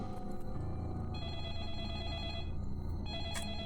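A telephone rings inside the Deadly Premonition video game, a steady electronic bell tone sounding continuously over a dense music and ambience bed, with no voices present.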